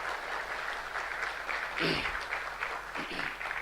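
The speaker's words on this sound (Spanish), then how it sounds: "Pido también un aplauso para él." Audience applause at a medical-legal conference talk, a steady wash of clapping from a crowd that swells briefly near the middle, with a voice speaking faintly through it.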